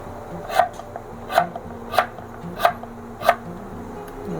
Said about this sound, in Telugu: ఇలాగా సన్నగా పల్చగా చిన్న చిన్న ముక్కల్లాగా కట్ చేసి పెట్టుకుందాం.